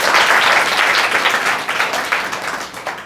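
Students in a classroom clap for themselves, a dense, steady round of applause that fills the room from the start and slowly tapers off over about three seconds, with no talking.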